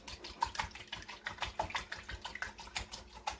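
Homemade hand sanitizer mixture being whisked in a bowl, with a fast run of soft, wet scraping strokes repeating steadily at close range and no talking.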